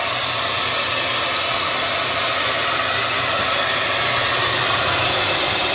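Heat gun warming the door seal tabs of a Maytag WC504 portable dishwasher, a steady, loud, continuous blowing hiss that holds unchanged throughout with no speech.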